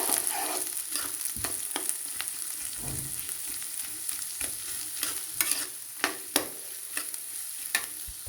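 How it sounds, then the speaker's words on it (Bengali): Onions fry in hot oil in a wok for a spicy chicken dish, giving a steady hiss. Scattered scrapes and sharp knocks of the spatula against the metal sound through the sizzle. "পেঁয়াজ ভাজা ভাজা হয়ে গিয়েছে।"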